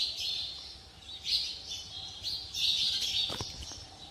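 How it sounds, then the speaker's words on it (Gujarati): Sparrows chirp around their nests at a shrine where block-laying work is under way, a faint but steady chatter of high tweets rising and falling with no other sounds close by. "અને ચકલીઓનો અવાજ પણ તમને સંભળાતો હોય છે."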